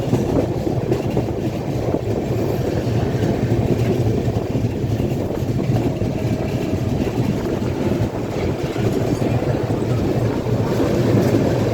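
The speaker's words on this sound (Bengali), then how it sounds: "ডাউন লাইনে দিয়ে এখন আপাতত পাস করাচ্ছে ট্রেনটাকে" A train passing on the down line of an Indian South Eastern Railway route, heard as a steady, loud, continuous rumble with no pauses.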